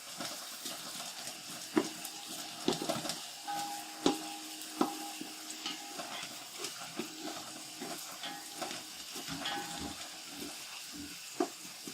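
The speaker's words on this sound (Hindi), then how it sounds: "प्याज लाइट ब्राउन करेंगे।" Onions fry in a pan until light brown, giving a soft, steady sizzle with occasional stirring scrapes and faint clinks throughout, fairly quiet and close.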